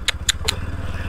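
A motorcycle engine with a steady low rumble and a rapid putter, heard close up on a rough hillside road near Kathmandu, with a few sharp metallic clicks over the first half-second.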